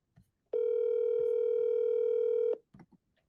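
An outgoing phone call rings back with a single steady electronic ring tone lasting about two seconds, clear and close, with faint background noises before and after.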